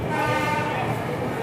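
The Secunderabad–Nizamuddin Duronto Express overtaking the Mahakaushal Express at Mathura Junction, a loud continuous rumble and rolling clatter with a brief tonal horn-like note, heard from close by.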